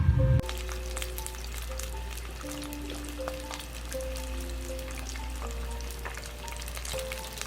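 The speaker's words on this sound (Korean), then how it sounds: "다 양미리 튀김입니다" Sand lance fish deep-frying in hot oil, giving a continuous close sizzle with scattered bubbling pops after a brief loud thump at the start, with no voices.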